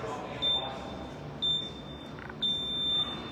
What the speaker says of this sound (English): A nice loud audible beep.